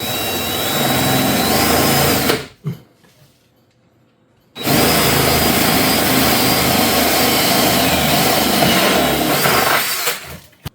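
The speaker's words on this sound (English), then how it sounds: "I have no choice. I have to drill." A power drill whines loudly in a long continuous run drilling into a cabinet, stops for about two seconds, then starts again and keeps grinding steadily.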